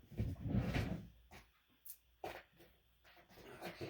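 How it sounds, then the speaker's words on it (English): Card dropped into a messy drawer and the drawer pushed shut, a few short knocks and a sliding thud after a louder rustle at the start, close and fairly quiet. "while I stick this card in the drawer"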